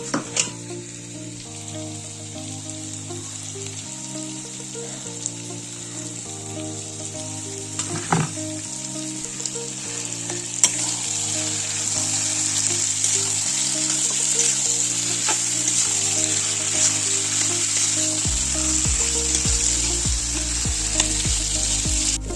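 Ingredients stirred and mixed as they fry in a pan for an Assamese sweet potato dish, a steady close sizzle with scraping stir strokes throughout and a thicker, louder frying texture near the end.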